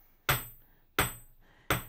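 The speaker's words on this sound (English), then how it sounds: "I'm going to use the flat face of the hammer." A forging hammer's flat face strikes hot metal three times in steady rhythm, each blow a loud, sharp ringing clang that decays quickly, close and alone.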